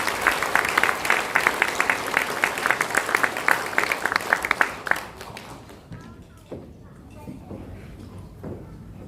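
A church congregation at an ordination ceremony claps in a burst of rapid applause for about five seconds, then it dies away into quieter murmuring, shuffling and a speaking voice.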